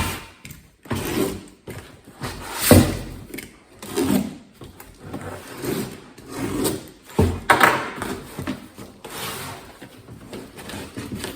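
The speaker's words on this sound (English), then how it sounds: "So we're gonna go ahead and cut this thing open and see what we got." Someone cuts open and handles a shipping package holding an exhaust pipe for a 2014 Ford Explorer. The clip has irregular rubbing, scraping and cardboard-like rustling bursts at close range, with no one speaking.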